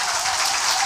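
Loud, dense applause from a live audience closing a Korean talk-show interview with Moon Jae-in, a brief continuous burst of clapping heard close up with no speech.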